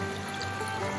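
Water running steadily for washing hands and feet at a roadside stop in Kinnaur, a continuous close trickling flow with no talk over it.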